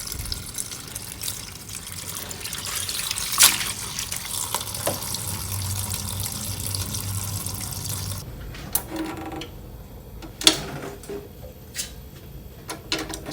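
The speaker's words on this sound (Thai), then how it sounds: "ล้างให้สะอาดสักสามน้ำครับ" Napa cabbage being rinsed under running kitchen water, a steady splashing gush with drips and small clatters, louder for the first eight seconds and then lighter with occasional splashes; no talking.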